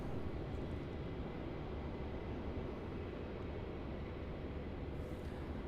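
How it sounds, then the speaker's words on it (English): Qantas airliner in a 1950s-inspired retro livery taxiing toward Terminal 1 at Melbourne Airport, a steady broad engine rumble and hiss holding at constant level throughout, with no voices. "So there's the retro just taxiing over to the T1, which is where Qantas is based."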